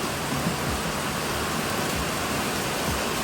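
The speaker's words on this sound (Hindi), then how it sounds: "पानी बारिश का भर रहे गए।" Steady rain pours onto a rooftop, hissing in a dense, even wash while rainwater collects in a tub set out for a child's bath; the broadband patter stays constant and close throughout with no voices.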